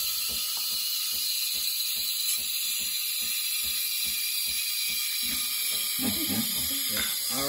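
A cappuccino espresso machine's steam wand heating milk, a steady loud hiss overlaid by a regular rapid ticking or clicking mechanism, continuous and close with no voices.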